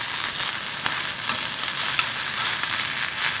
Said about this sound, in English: Vinegar and soy sauce, just a little, one drop. And well, stir this like that.